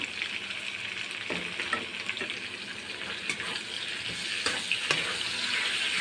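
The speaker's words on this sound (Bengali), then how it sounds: "তার মধ্যে দিয়ে দিচ্ছি আদা রসুন বাটা।" Chopped tomato and ginger-garlic paste fry in a hot pan with a steady, close hiss. Light scrapes and crackles break through now and then, and no one speaks.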